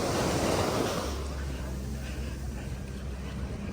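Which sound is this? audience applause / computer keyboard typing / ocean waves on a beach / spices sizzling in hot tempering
ocean waves on a beach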